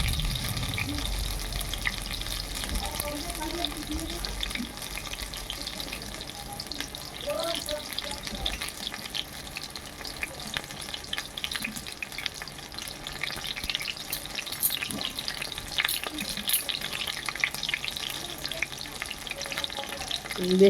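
Ash gourd leaf fritters deep-frying in white oil in a kadai until reddish, making a constant close hiss and crackle with scattered pops over about twenty seconds, with brief light talk early on.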